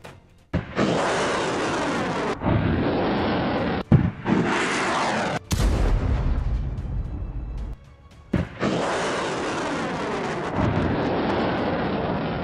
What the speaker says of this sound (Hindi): तोपें गरजी, मिसाइलों की बौछार हुई, ड्रोन से भीषण हमला हुआ